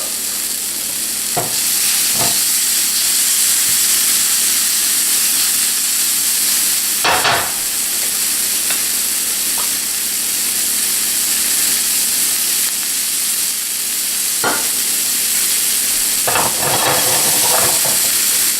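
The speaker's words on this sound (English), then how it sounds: "the onion's cooking, the garlic's cooking" Onion and garlic frying in a pan for a veal recipe with paprika, a steady loud sizzle and hiss throughout with a few brief stirring scrapes.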